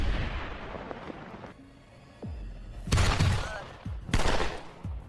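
A gunfight in an action film with long-range rifles: a few sharp cracks and a thump, then two heavy, loud bursts of rapid fire with booming echoes, separated by a brief lull.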